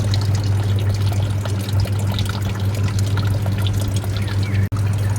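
Water from a solar powered pond pump pours steadily in a continuous, even splashing rush, close and fairly loud, with no voices.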